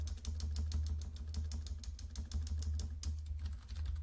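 Rapid, evenly spaced clicks of a computer keyboard spacebar pressed about twenty times in a row, close and fairly quiet over a steady low hum.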